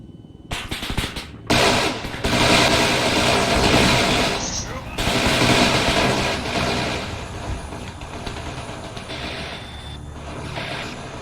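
Dense gunfire in a war video game, rapid automatic bursts loud and close, with a brief pause before the shooting resumes heavily.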